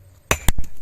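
A hammer strikes rock in a few sharp, loud knocks close by, with a quick cluster of impacts near the end and no talking.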